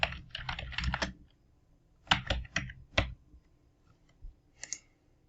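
Computer keyboard typing in bursts of rapid key clicks while editing legend item text in QGIS, with a pause between flurries and a few isolated taps near the end, close and clear with no talking.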